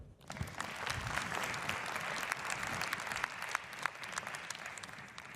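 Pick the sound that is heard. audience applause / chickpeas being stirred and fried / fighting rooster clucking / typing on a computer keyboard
audience applause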